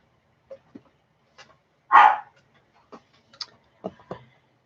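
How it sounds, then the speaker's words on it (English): A single sharp dog bark stands out in a quiet room, surrounded by faint ticks and small knocks. "If you heard that bark, that is my other dog"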